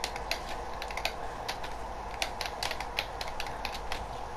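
Rapid, uneven clicks of keys being typed on a computer keyboard during a French-language shooter game, with sharp, close key strikes repeating steadily over a low steady background hum.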